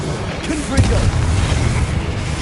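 A Confringo blast spell cast in the Hogwarts Legacy video game, heard as a loud, rolling low boom that swells and rumbles on for about two seconds.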